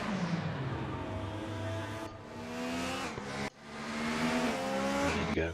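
Race car engines from the R3E racing game with DTM 1995 touring cars, a loud continuous drone with rising and falling revs, gear changes and a brief dip near the middle, alone without talk.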